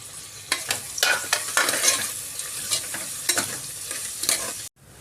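Chicken pulao being stirred and fried in a pan, with repeated scraping strokes over a steady sizzle, close and fairly loud, ending abruptly.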